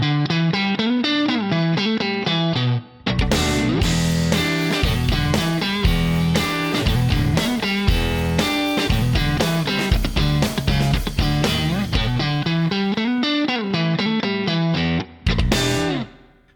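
Electric guitar through a Line 6 Helix Stadium modeling an Agoura Brit Plexi amp with a touch of Hot Springs spring reverb: loud, crunchy driven chords and riffs played continuously, with two brief pauses.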